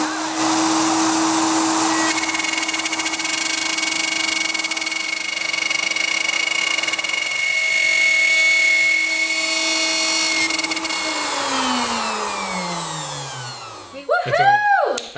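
Power tool cutting a circle in expensive plywood during RV building work, a loud sustained whining drone that holds steady, then winds down with falling pitch near the end.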